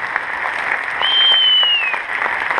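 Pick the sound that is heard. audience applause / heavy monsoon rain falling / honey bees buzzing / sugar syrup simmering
audience applause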